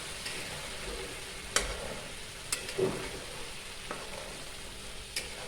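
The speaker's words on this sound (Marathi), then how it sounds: "लिंबूचा रस जोपर्यंत तडतडते तोपर्यंत त्याच्यात हलवत राहायचं आहे" Lemon juice added to chivda frying in a pan sizzles softly and steadily, with a few sharp clicks and scrapes from stirring scattered through the quiet sputter.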